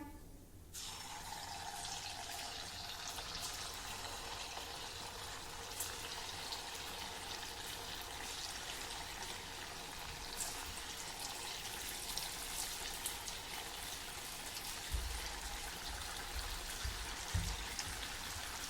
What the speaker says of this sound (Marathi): बोंड आपण तेलामध्ये सोडूया.